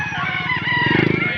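A rooster at a chicken sale in Padre Garcia, Batangas crows loudly and close by in one sustained call, with steady crowd noise and low chatter underneath.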